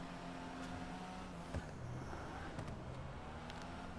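A low, steady car engine drone from driving in GTA 5, with faint revving and a few scattered clicks, quiet and even throughout.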